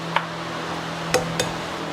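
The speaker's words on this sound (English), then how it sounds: "Just going to crack 3 eggs into this bowl" Three eggs being cracked into a bowl for an egg wash, three short sharp taps on the rim spaced apart over a low steady background hum.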